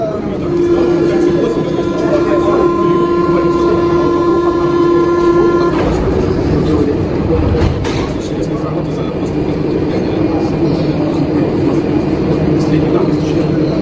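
A Paris metro train rumbles close by with a steady tonal whine that stops partway through, leaving a broad rolling roar, while people talk over it.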